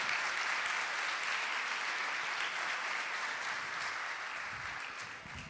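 An audience applauds to welcome a guest speaker at a talk, a continuous, even wash of many hands clapping, moderately distant and tapering slightly at the end.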